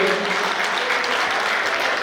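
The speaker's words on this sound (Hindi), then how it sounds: "कृपया आप सब जोरदार ताली बजाकर हमारे कलाकारों को इस मंच से विदा दें" Enthusiastic applause from an audience sending off performers from a stage at a cultural festival, dense and steady clapping for a couple of seconds with a voice heard over it.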